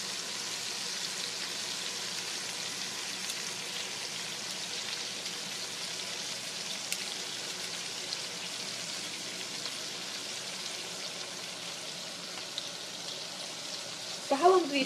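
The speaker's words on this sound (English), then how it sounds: "So these shrimp typically take about 3 to 5 minutes to fully cook." Raw shrimp frying in a pan for shrimp scampi with zoodles give off a steady, even sizzle that lasts throughout, with a short clatter of movement near the end.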